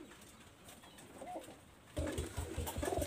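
An original Robid Saki generation pigeon coos close by, its soft murmurs at first giving way to louder, rhythmic repeated coos in the second half.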